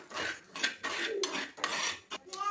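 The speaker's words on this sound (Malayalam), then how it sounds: "അരി ഉണങ്ങിയ ശേഷം ചട്ടിയിലിട്ട് വറുത്തു" Rice roasting in a pan as it is stirred, giving repeated close metallic scrapes and clinks of a utensil against the pan in short irregular bursts, with no talking.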